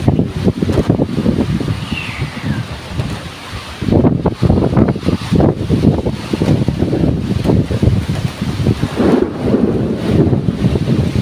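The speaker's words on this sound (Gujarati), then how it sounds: "ગાજવીજ સાથે વરસાદ શરૂ થઈ ગયો છે મિત્રો, અને વાવાઝોડું પણ છે સાથે।" A thunderstorm with heavy rain and gusting wind in Bharuch, rumbling thunder rolling repeatedly under a dense, loud roar of rain and buffeting wind noise against the microphone, continuous and close.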